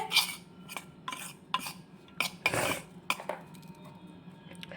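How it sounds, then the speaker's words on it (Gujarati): Spoon working through gram flour batter in a bowl, with a handful of scraping, clinking strokes against the sides at an uneven pace, close and fairly quiet. "એને આપણે જરાક હલાવી લેવાનો છે"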